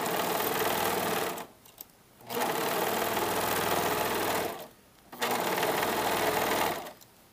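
A sewing machine runs in long continuous bursts while stitching a blouse sleeve seam, loud and close, with two brief pauses between runs and no talking.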